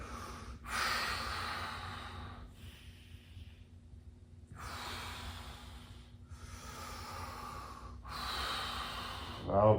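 Slow, deep breathing during a beginner yoga stretch, with long airy inhales and exhales repeating in a steady rhythm of about four breaths, close and fairly quiet, with a low background hum.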